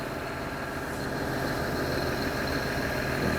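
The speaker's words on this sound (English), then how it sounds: "Getting in the loader here, gonna get me some rock." A John Deere 544L wheel loader engine idles steadily nearby, a constant low diesel rumble and hum with no talk.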